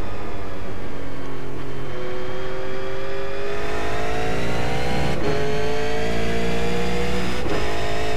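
A V8 race car roars steadily on the Okayama circuit in iRacing, engine loud and close, rising through the gears with repeated upshift dips and renewed climbs in pitch.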